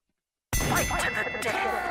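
A bell clangs loudly after half a second of silence to start a fighting round, then rings on with a bright metallic tone that slowly fades under crowd or commentary noise.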